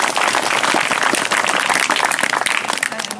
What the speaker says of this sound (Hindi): हम पुनः बच्चों से इसके लिए धन्यवाद स्वरूप तालियां बजाएं।